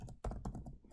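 Rapid keystrokes on a computer keyboard while writing code, a quick burst of close, crisp clicks with one louder tap near the start.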